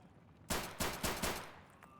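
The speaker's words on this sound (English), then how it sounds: "Y'all just stop shooting at me for a second." Gunfire in Escape from Tarkov: four sharp, loud shots in an irregular burst after a quiet start, each with a short decaying tail, then a faint distant pop near the end.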